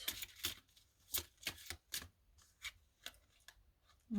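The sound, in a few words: cards being handled and dropped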